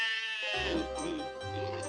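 A cartoon sheep gives a short, wavering bleat, close and clear, voiced by a person imitating the animal, following a brief sung phrase.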